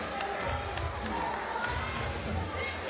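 Large crowd at a freestyle wrestling match hosted at Life University, a steady dense roar of cheering and chatter filling the arena, loud and continuous throughout.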